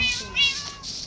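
Short bursts of meowing from a cat in Minecraft, two or three quick mews in close succession, bright and near against a faint background.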